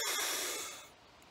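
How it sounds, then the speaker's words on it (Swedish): A single deep, forceful inhalation during a guided breathing exercise, close and airy, fading out into quiet after about a second. "Andas in så mycket det går."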